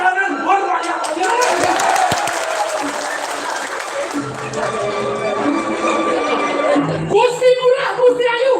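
Audience at a traditional drama gong performance clapping rapidly many times, a loud sustained burst of applause with cheering, voices and a few whoops mixed in, then a talking voice near the end.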